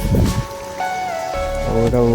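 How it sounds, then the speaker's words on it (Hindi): Heavy monsoon rain pours outside with a loud, steady patter, while a tonal voice or melody sounds over it. "वर्षा बड़ जोर हो ना बाहर"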